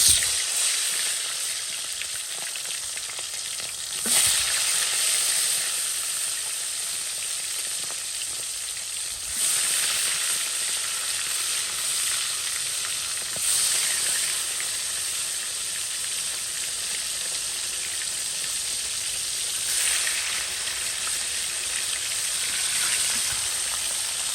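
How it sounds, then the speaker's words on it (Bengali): Spice-coated meat pieces fry in hot oil in a kadai with a constant close, bright sizzle, swelling into louder bursts every few seconds as they are stirred, with no voices. "আমি কড়াইতে তেল দিয়ে দিছি আমি হচ্ছে এগুলো এখন প্রথমে ভেজে নেব"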